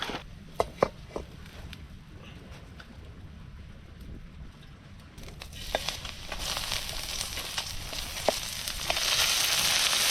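Kasag crabs caught in a fish trap sauté in a pan, a steady outdoor sizzle that swells louder toward the end, with occasional clinks of utensils.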